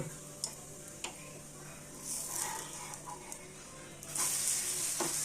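Adai dosa, a thick protein-rich lentil crepe, sizzles on a hot pan as it is flipped golden brown, a steady close frying hiss broken by a few sharp ticks and a louder burst near the end.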